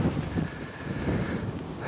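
Wind buffets the microphone on an open golf course, a steady low rumbling roar with gusty swells throughout and no voices.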